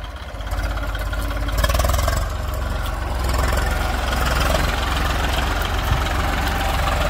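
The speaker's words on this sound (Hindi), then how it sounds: "तो भाई ये आ चुका है हमारा ट्रैक्टर खेत पर" A farm tractor's diesel engine idles steadily with a low, throbbing rumble at a village field where manure has been delivered, loud and continuous throughout.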